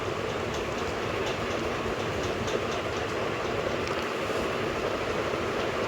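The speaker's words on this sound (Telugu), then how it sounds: "మన ఇది కిందకి వెళ్ళేలోపు ట్రైన్ కూడా వచ్చేసింది" A train pulls into a station, a steady rumbling rail roar with faint wheel clatter throughout, fairly close and without talking.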